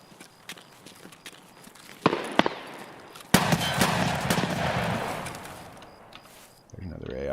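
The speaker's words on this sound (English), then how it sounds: "I can hear him shooting people." Gunfire in the shooter game Escape from Tarkov, sharp shots and bursts cracking at mid distance with lingering echo, over a busy background with faint ambient noise.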